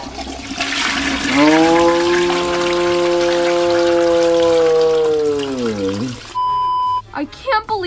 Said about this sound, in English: Ew, what does this handle do? No, you're gonna flush yourself!